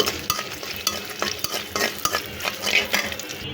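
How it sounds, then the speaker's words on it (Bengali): Dried red chilies fry in hot oil in a pan as a spoon stirs them, giving a steady close sizzle broken by repeated scraping clinks of the utensil against the metal. "সেজন্য কিছু শুকনো মরিচ আগেই ভেজে নিচ্ছি তেলের মধ্যে"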